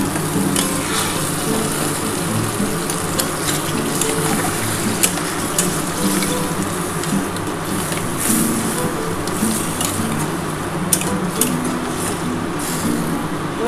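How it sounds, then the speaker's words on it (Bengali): Crab curry cooking in a pan just after a little water is poured in, a loud, dense, continuous sizzle and bubbling hiss with faint utensil ticks, close up and without speech throughout. "এবার আমি অল্প করে একটু জল দিয়ে দিচ্ছি।"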